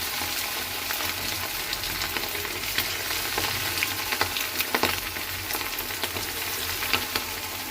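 Chili-coated chicken pieces fry in hot oil in a pan, a loud, continuous close sizzle with scattered crackles and pops and no voices.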